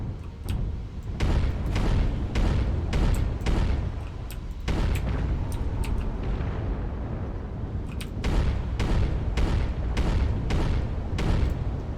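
Video game MechWarrior artillery strike: a rapid series of loud, booming explosions, one after another at an uneven pace, with deep rumbling tails, and no talking.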